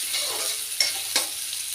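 Onions frying in a pan, browning lightly, with a constant bright sizzle and two sharp stirring scrapes, close up, no talking.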